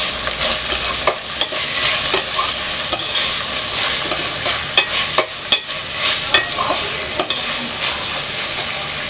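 Onions with mint and coriander leaves sautéing in a hot pan for gongura chicken curry, a loud continuous sizzle broken by repeated sharp scrapes and clanks of a spoon stirring against the pan.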